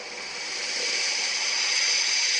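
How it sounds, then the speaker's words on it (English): A blender running in a room, a steady bright whirring hiss that grows slightly louder and holds constant, heard alone without talk. "the blender sound is still there because it is in the room and it is natural to hear it"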